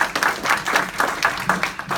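Applause from an indoor audience at a real estate agency honors event, steady rhythmic clapping from many hands, moderately loud and close, with no talking over it.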